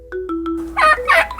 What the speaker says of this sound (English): Ikalikuni, turkey.